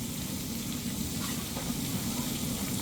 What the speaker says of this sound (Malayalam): നമ്മൾ ചെറിയ ഉള്ളി നന്നായിട്ട് ഇളക്കി കൊടുക്കാം